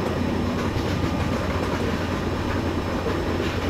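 WDG4 diesel locomotive hauling the Ahilya Nagari SF Express in an Indian train simulator game: a steady, loud rumble of running wheels and engine with a faint clickety-clack rhythm, continuous and without speech.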